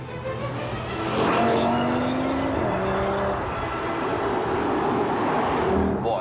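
A 400-horsepower 2.5-litre turbocharged five-cylinder Audi TT engine growls and revs steadily, its throaty roar rising and holding with faint shifting tones, continuous and fairly close, no voices.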